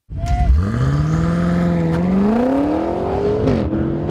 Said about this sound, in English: Dial everything to Sport Plus, put the gearbox in manual mode, turn DSC off, then floor the brake, then hit the throttle.